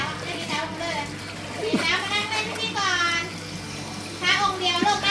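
Water from a garden hose running into a tub during Songkran play, a continuous splashing flow under lively children's chatter and squeals.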